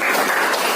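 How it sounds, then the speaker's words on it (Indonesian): Classroom applause for a student, a short dense burst of clapping from a room of students, loud and close for under a second. "Amira, tepuk tangan buat Amira."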